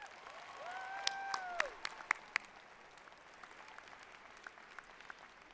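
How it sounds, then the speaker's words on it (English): A brief round of applause from an audience at a nursing college graduation ceremony, clapping that swells and then fades within a few seconds as the room quiets. "Please give them a round of applause."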